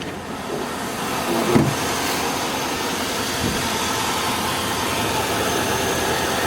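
A Chevy Avalanche engine idling steadily after a new alternator and battery were fitted, a continuous mid-range hum with a brief clunk and whir near the start.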